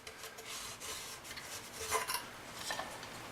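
A cloth rubs wax onto the dry wooden case of a cuckoo clock, a soft, continuous close-up scrubbing with gentle swells and no voices.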